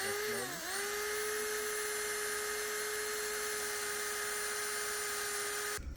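A steady high-pitched drill whine runs continuously near the mic as the bit bores into wood, starting with a brief dip in pitch as it spins up, then holding constant.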